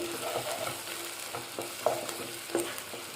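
Ginger-garlic paste fries for an Andhra-style drumstick and sweet potato stew with a close, steady sizzle. A spatula scrapes and knocks against the pan every half second or so, and no one talks.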